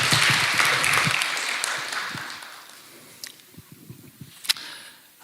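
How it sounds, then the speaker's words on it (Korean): A church conference audience applauds a missionary, with dense clapping loudest at the start that thins and fades to a few scattered claps over several seconds. "예, 박수."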